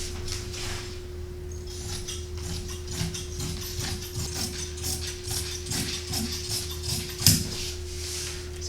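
Scissors cutting apron fabric, a series of crisp snipping clicks in an irregular rhythm, close and fairly quiet over a steady background hum.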